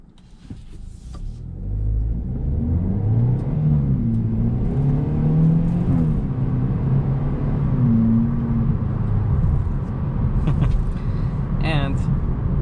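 A 2022 Hyundai Elantra N Line's 1.6-litre turbocharged four-cylinder engine pulls strongly as it accelerates, its pitch rising smoothly under a steady road rumble, close and fairly loud, with a brief whine near the end.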